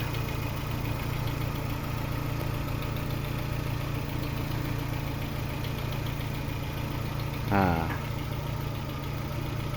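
Chevrolet Aveo automatic car engine idling steadily, a constant low hum with a faint whine, close and even throughout, with one brief sweeping sound near the end.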